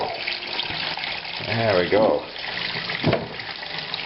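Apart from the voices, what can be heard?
water running from tap into sink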